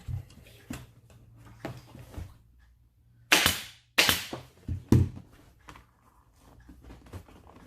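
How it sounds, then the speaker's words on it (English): A pneumatic long-nose staple gun fires into motorcycle seat upholstery, giving a few sharp, close snaps in an irregular run, with quieter handling noises in between. "you can use any air gun, but with a long nose would be the best choice"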